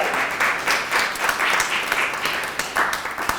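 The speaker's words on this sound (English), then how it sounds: "Please give a big round of applause." Steady audience applause, a dense wash of many hands clapping at close range, sustained throughout with small swells, at a panel discussion in South Africa.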